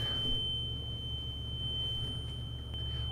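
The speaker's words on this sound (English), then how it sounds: "We have a light and buzzer on the dash." A steady high-pitched dashboard warning buzzer drones continuously inside a bus over a low engine hum, unchanging throughout.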